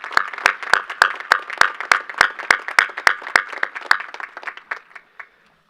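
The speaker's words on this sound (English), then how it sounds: "Big round of applause for Dr. Gordetzer." Graduation ceremony audience at a high school commencement gives a round of applause, starting as a steady run of distinct, fairly close claps that thins out and fades to silence near the end.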